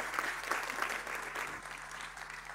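Audience applause for a government minister at an open local-election campaign meeting in Poznań, a thick burst of clapping that fades slightly toward the end.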